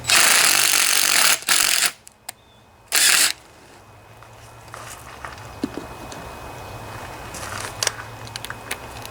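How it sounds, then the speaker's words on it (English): A power drill cuts threads on a vintage Craftsman riding mower with a 20 HP Briggs & Stratton twin engine, loud whirring bursts near the start, then quieter scattered clicks and workshop handling noise. "It's a lot easier to do with one of these drills, that's for sure."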